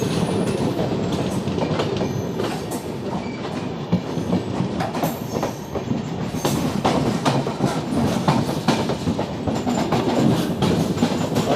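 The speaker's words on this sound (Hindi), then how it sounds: "Gorakhpur Lokmanya Tilak terminal express" The Gorakhpur–Lokmanya Tilak Terminus Express rolls past on Indian rails with a loud, continuous rumble and rhythmic clickety-clack of wheels over joints, sustained throughout with no voices.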